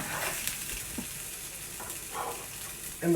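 Onions with a little celery frying in a pan over lowered heat, a soft steady sizzle with a few clinks and stirring scrapes, quiet and close, with no talk.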